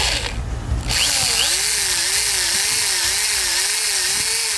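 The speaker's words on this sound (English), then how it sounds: "you're gonna take a small drill bit and then you're gonna make a pilot hole" A power drill with a small bit boring a pilot hole while installing a roof rack on a 2020 Toyota Tundra: after a brief rustle, a loud, steady motor whine runs continuously with a slightly wavering pitch.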